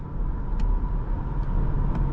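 A 2017 BMW X5 xDrive50i pulls hard under acceleration, a steady low engine drone filling the cabin with faint ticks above it, continuous and fairly loud.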